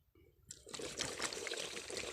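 Liquid pig manure fertilizer pours from bottles, a quiet trickling and splashing that begins after a brief pause and runs on softly without any talking.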